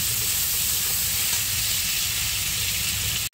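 Sliced onion and tomato with salt frying in a pan while being stirred, giving a steady, close, dense sizzle that holds evenly throughout and cuts off abruptly at the very end.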